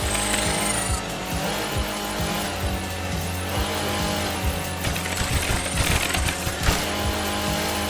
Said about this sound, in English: you get to take one of these snowmobiles off some sick jumps and plow through some enemies